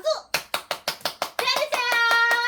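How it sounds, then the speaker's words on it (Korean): Children clap their hands in a steady rhythm of about eight sharp claps, then the clapping blurs into a sustained tone, with young voices singing over the end. "박수!"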